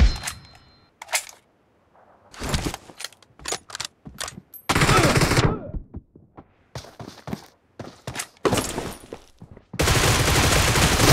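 Repeated loud bursts of automatic gunfire in the mobile battle game BGMI (PUBG Mobile), during a team deathmatch, crack out in short volleys separated by brief gaps, with longer sustained bursts later on.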